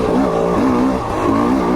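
A TM EN 300 two-stroke Italian dirt bike engine drones loud and close while riding technical rocky terrain, its pitch rising and falling in short throttle surges with a continuous buzzing note and no talk.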